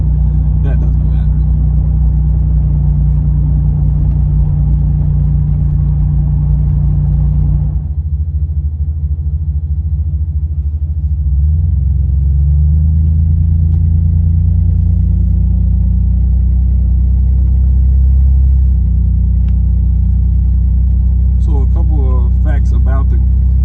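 A Pontiac Grand Prix G-body V6 idles with a holed, leaking muffler, a steady low rumble that runs nearly throughout, shifting pitch partway as the engine settles, with some background sound under it.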